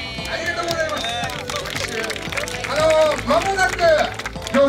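Audience applause breaks out at a Clean-pic national litter-picking competition in Senagajima, Okinawa. Dense, steady clapping from a crowd runs under a speaker's voice and grows louder near the end.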